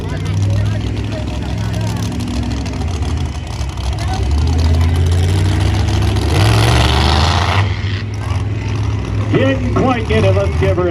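A monster truck engine drones loudly and continuously at a Monster Jam dirt arena, swelling as the truck lines up for a stunt, with an announcer talking over it throughout.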